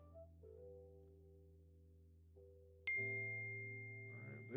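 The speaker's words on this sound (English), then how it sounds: "All right, there's that text message you just sent Steve, the photo." A phone chimes with a text message notification, a single bright ding rising out of a quiet background with a soft sustained tone underneath, no speech.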